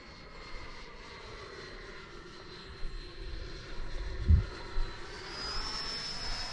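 An FMS F-86 model jet on its maiden flight makes a steady, distant engine whine that rises slightly as it passes, with a few louder gusts of wind noise near the end.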